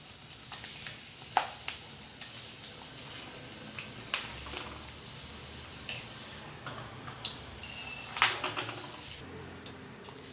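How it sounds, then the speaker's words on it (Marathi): Sago and potato papad frying in hot oil gives a faint, continuous crackling sizzle with scattered sharp pops and ticks, fairly quiet and close, with no talking. "आपण पापड तळून बघू कसा झाला आहे तो इकडे"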